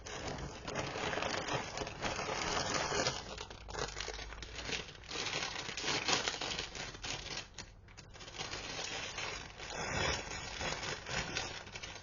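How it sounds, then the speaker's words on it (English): Plastic packaging rustles and crinkles continuously while budgie supplies are unpacked, a loud close crackling that stays busy and dense throughout, with no talking. "Sorry for the rustling."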